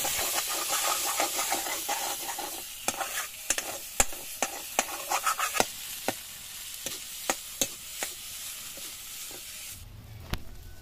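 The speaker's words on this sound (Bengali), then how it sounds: "নারকেল, সর্ষে এবং লঙ্কা বাটা ভালোভাবে কষিয়ে নেওয়ার পরে" A thick paste sizzles and hisses in a hot wok while a spatula scrapes and clacks repeatedly, the frying fading as the strokes continue.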